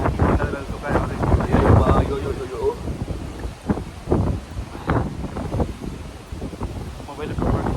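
Cold wind in fog on Rani Jhari peak near Chikmagalur buffets the microphone in rumbling gusts, loud and close, while people talk over it.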